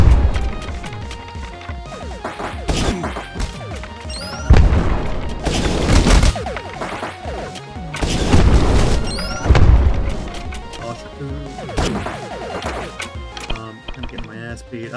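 Enemies smash through cover in the video game Eastward: repeated loud crashing and booming impacts in bursts amid busy game sound effects, with voices talking over parts of it.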